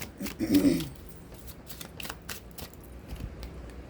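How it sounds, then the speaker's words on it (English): Tarot cards shuffled by hand in a series of soft, brisk riffling and sliding bursts, with one louder thump near the start and quieter card flicks following in an uneven rhythm. "You guys see me shuffling, right?"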